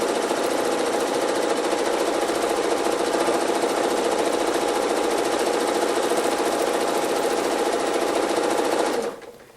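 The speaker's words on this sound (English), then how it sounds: "I'm just going to kind of stitch around a little bit." A Janome Horizon 7700 sewing machine runs steadily through free motion quilting, a continuous close rapid needle hum and clatter lasting about nine seconds before stopping abruptly.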